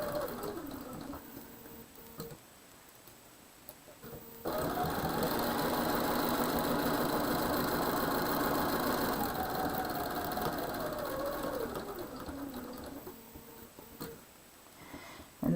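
A sewing machine stitches a quilt block seam, a fast even mechanical chatter running steadily for about eight seconds after a quiet start, then slowing and stopping, close by with no talking.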